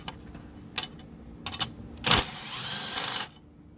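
A wrench spins a 10 mm nut loose while a front bracket comes off a 2010–2013 Range Rover Sport L320 during air shock removal, with a few quick ratcheting clicks, then a sharp metallic burst and a brief whirring rattle, close and no talking.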